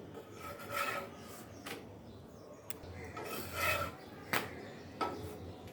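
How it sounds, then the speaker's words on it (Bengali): Roti flatbreads roasted one by one on a pan for breakfast, heard as quiet rasping, rubbing scrapes with a few sharp knocks, close and fairly faint, with no talk. "এক এক করে রুটিগুলো সেঁকে নিচ্ছি"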